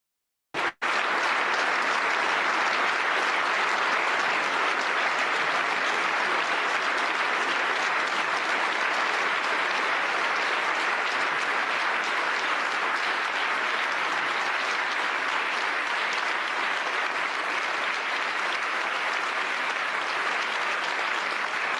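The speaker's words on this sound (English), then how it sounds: "they didn't give this kind of applause to J.D. Vance, but they give it to this" A large assembly in a big hall breaks into sustained, thunderous applause that starts abruptly and holds as a dense, even roar of clapping for over twenty seconds without letup.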